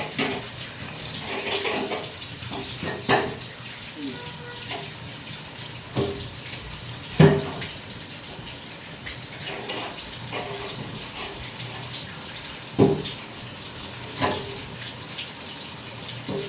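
Water runs steadily from a kitchen tap while a kitchen counter is washed, a continuous rushing flow at close range broken by occasional knocks and clatters.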